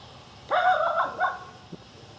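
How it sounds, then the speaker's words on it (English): A single short dog bark close by, followed by a faint yip, then quiet. "She's barking at a bird."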